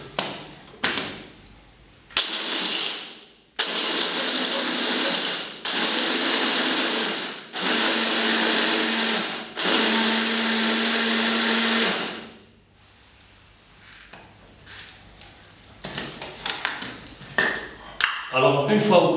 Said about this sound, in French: une fois que vous avez mixé votre poudre d'amande